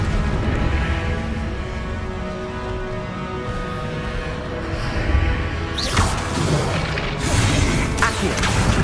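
A Confringo blasting spell explodes in Hogwarts Legacy, with a couple of sharp, loud bursts cutting through steady game music and ambience near the end.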